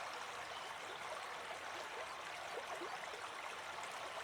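A flowing river stream gives a soft, steady, even rush of water that holds at a constant low level throughout, with no voices.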